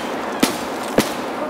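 Two sharp, loud gunshots burst out in a video game, about half a second apart, over a steady hum of game ambience.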